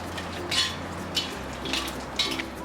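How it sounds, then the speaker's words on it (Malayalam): Dried red chillies stirred into a pan of Chettinad chicken masala with cumin, giving soft metal scrapes and clinks of a spoon at a few spaced moments over a faint frying hiss, close by, with no talk. "ഇതിലേക്ക് എടുത്തു വെച്ചിരിക്കുന്ന വറ്റൽ മുളകും കൂടി ചേർത്ത് കൊടുക്കാം"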